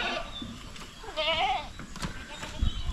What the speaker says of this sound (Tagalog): dispatch lang natin yung mga native na kambing dito